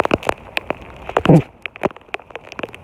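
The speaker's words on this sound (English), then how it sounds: "Raining." Scattered sharp drips and taps of rain hitting a hard surface nearby, irregular and fairly loud, with no voices.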